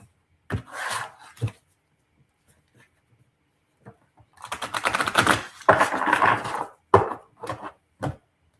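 Tarot or oracle cards riffle and shuffle in short bursts, a quick flutter first, then a longer run of rapid clicking snaps after a pause.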